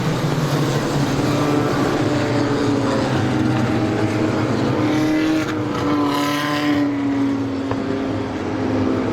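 Race cars in a NEMA Lite feature at Star Speedway circle under the caution flag, their engines making a steady, continuous droning roar that holds at an even level throughout.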